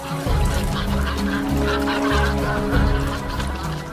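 Trained fishing cormorants kept by Japanese fishermen calling, loud hoarse honking croaks in a continuous close chorus with no talk.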